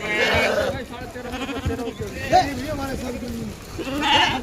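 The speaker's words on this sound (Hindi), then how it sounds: "भेड़ आ गए।" Sheep bleat several times around a livestock market, with people talking over and between the calls in a busy, crowded setting.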